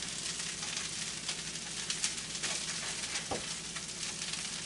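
Steady loud sizzling of shrimp fried rice frying in a hot oiled pan, with occasional scraping and tossing as it is stirred, continuous throughout with no talking.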